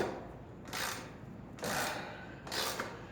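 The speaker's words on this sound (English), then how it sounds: "I'm finally able to loosen this crank bolt" Bicycle crank bolt being loosened, three short grinding, rasping strokes about a second apart, close and fairly quiet over a faint background.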